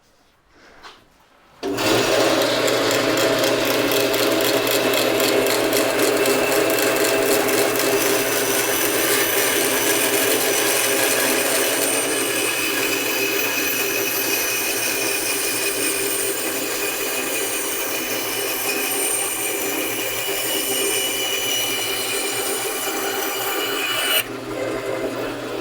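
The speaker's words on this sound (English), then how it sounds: "cutting curves on the bandsaw" A bandsaw cutting curves in a wooden workpiece, a steady loud whirring rasp that starts abruptly after a quiet moment and holds evenly for over twenty seconds before stopping near the end.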